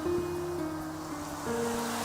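Sea waves washing onto a shore, a soft, continuous surf hiss under sustained, droning musical tones that shift pitch once partway through.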